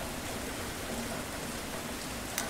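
Rain falls as a steady, even hiss that stays fairly soft and continuous throughout, with no voices.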